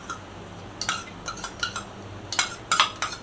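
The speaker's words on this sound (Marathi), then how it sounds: "पीठ सतत हलवत राहायचं" A utensil stirring gram flour roasting in ghee in a pan for besan laddu, giving irregular light scraping clinks and taps against the metal, close and fairly quiet, with no voices.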